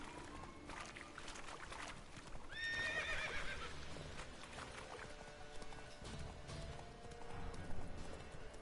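The horse Roach in the video game Witcher 3 trots with soft, steady hoof clip-clops, and a brief whinny rises midway, all fairly quiet against light ambient game sound.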